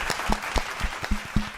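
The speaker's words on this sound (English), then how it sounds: "Please give a round of applause for Drew Viotto." Applause greeting a guest on a podcast, sounding like a small group: separate claps with audible thumps and a few sharp hits, fairly close, lasting under two seconds.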